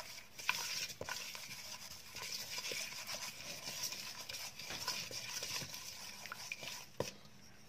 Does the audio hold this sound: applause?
no